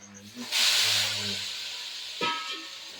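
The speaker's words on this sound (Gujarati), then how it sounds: "મસાલો હળદર નાખી છે મિત્રો વઘાર માટે" Turmeric and spices tempering in hot oil for khichdi give a sudden loud hiss that swells, fades over a couple of seconds, then flares briefly again near the end, with no voices.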